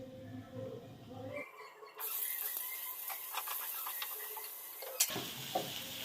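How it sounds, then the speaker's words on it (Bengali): Onions going into a pan to start an egg curry cooked in mustard oil, a rising soft sizzle with light stirring ticks and taps, quiet and close, no voices. "চলো পেঁয়াজটা দিয়ে রান্নাটা শুরু করি"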